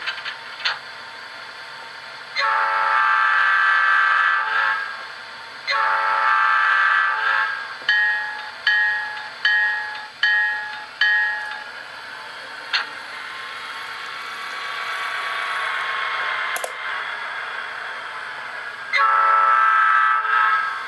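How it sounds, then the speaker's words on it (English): An HO scale model locomotive's P5 horn sounds in long blasts, then a rapid series of short toots, then more sustained blasts over a faint mechanical background. "Here's the P5 horn."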